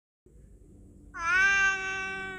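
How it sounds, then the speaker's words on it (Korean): A cat meows loudly and close at night, one long drawn-out wavering cry over a low steady background hum. "응답 대신 다시 고양이 울음소리가 들려왔다."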